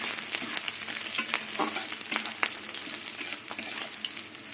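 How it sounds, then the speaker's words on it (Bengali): Crushed garlic and green chillies frying in hot oil for a taro-leaf dish, a steady bright sizzle broken by frequent crackles and stirring scrapes, close and fairly loud with no talk. "রসুনটা একটু ভাজা ভাজা হবে"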